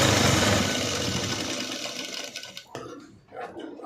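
A sewing machine stitches a lining, whirring steadily up close, then slows and stops with a few faint clicks and handling noises at the end.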